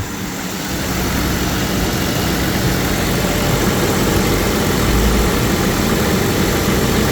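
A 1997 BMW 750iL with a 5.4 V12, idling steadily after a valve cover replacement, a loud continuous engine drone heard close up from start to finish without talk.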